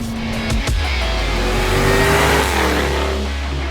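A Jaguar F-Type sports car engine revs and accelerates loudly and steadily, its deep roar rising in pitch over a few seconds with no voices.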